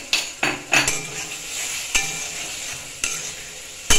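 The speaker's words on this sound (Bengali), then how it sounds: "এবারে মশলাটা আরেকটু ভালো করে কষাতে হবে" Spice masala for an egg curry being stirred and fried in a pan with a little water: steady close sizzle broken by several sharp spoon scrapes and knocks against the pan, no talk.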